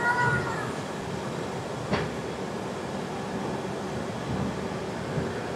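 A passenger train bound for New Delhi rolls alongside at a distance, a steady low rumble of wheels and carriages with one brief sharp click midway, fairly faint and continuous.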